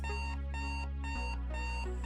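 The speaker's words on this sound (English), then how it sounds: "The small alarm is still ringing as it courses through the Biots' ears." Small alarm ringing in the video game Synthetic Lover: a steady electronic beeping that repeats in regular pulses over a constant low hum, with no voices.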